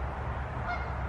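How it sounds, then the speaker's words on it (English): Geese honking by a creek in a small park along a river bike path, a steady, fairly distant chorus of calls blended into broad outdoor background noise with no talking. "I hear the geese."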